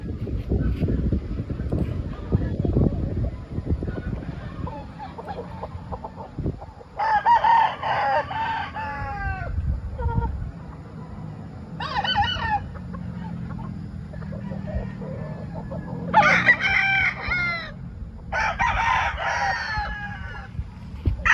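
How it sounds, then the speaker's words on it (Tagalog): Several rooster crows ring out one after another, loud and close, over a steady windy rumble with some clucking in between. "Manok."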